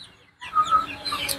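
Desi hens clucking on a rooftop farm, a few short close clucks and soft calls after a brief quiet start, fairly loud with no talk.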